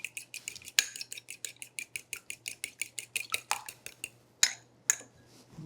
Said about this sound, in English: So I've just cracked one egg and I'm adding a tablespoon of cream. We'll get that all mixed.